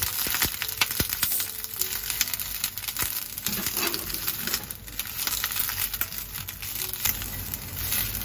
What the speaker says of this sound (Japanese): さっきざく切りしたキャベツをささっと炒めとくよ